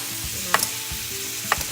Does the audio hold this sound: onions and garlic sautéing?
yes